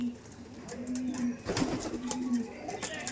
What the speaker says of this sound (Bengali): আর এটা ইরানি নাজরা পায়রা